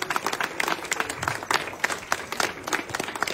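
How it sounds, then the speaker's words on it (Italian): Crowd applause at an outdoor political rally in Abbiategrasso, Italy, rises in uneven bursts of clapping, fairly loud and close, with a few sharper individual claps standing out. "fatevi un applauso"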